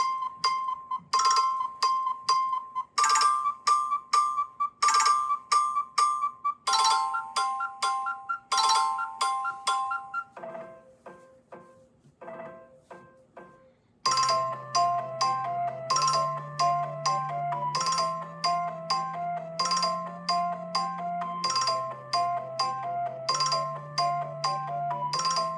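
Apple's Chirp ringtone from iOS 17 plays alone: bright repeated bell-like chirping tones in quick patterns, pausing briefly, then returning fuller with a low pulsing bass line underneath.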